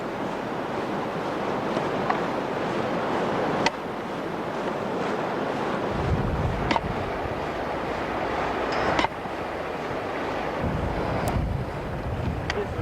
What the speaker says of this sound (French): Le vent glacial gèle l'équipement, compliquant encore la tâche des plongeurs.